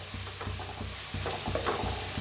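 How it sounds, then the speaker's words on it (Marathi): Finely chopped onion fries in oil with a garlic base while being stirred, giving a soft continuous sizzle broken by regular scraping strokes of the spoon against the pan. "आता कांदा तेलात चांगला भाजून घ्यायचा आहे"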